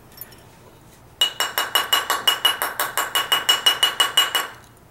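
A hammer strikes a sterling silver flat ring in a rapid, steady series of about eighteen loud, bright metallic blows. The blows start abruptly after a quiet moment and stop near the end, and no voice is heard.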